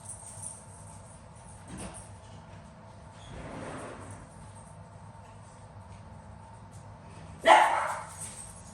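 A pet dog barks a few times at home, faint and scattered at first, then one sharper, louder bark near the end, over a quiet room background without talking.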